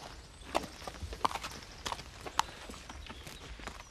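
Horse hooves clip-clop at a slow walk on a hard surface, a few distinct steady hoof strikes heard fairly close with little else around.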